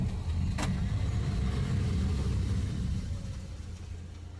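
A Maruti Suzuki Ritz is driven on a road test after its rear drums were swapped to check for a wheel bearing noise, with a steady low engine and road rumble that eases slightly toward the end.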